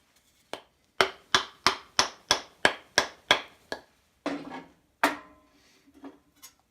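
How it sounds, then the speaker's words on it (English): A lathe live center is tapped lightly into the end of a walnut log workpiece: about nine sharp, evenly spaced knocks in quick succession, then a few louder, irregular strikes, close and clear with no talking. "just lightly tap it in to one of the ends of our workpiece"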